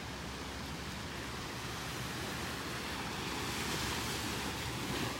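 Steady surf washes onto the sand at Delnor-Wiggins beach in North Naples, Florida, a continuous broadband roar of breaking waves with gentle swells in loudness and some wind, with no voices.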